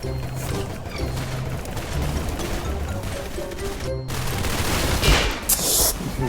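Gunfire in the video game Arsenal, rapid bursts of automatic shots and single cracks repeating throughout, with a louder burst and clatter near the end over game noise.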